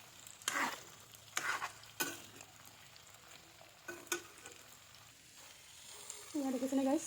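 Radish and carrot pickle with salt sizzles in a pan as a spoon stirs it, making several scraping strokes over a low frying hiss. A voice speaks briefly near the end.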